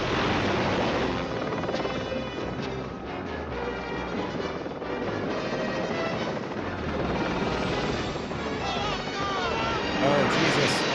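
Helicopter from the 1983 film Blue Thunder flying steadily, a loud continuous rotor and engine roar with film score and dialogue mixed over it throughout.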